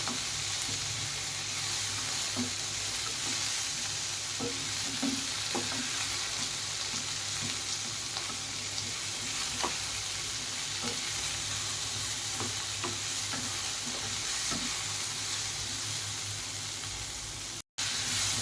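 Tomatoes sautéing in a pan for crab curry (nandu kulambu), a steady close sizzle and frying hiss with repeated scraping stirs of a spoon against the pan, no talking.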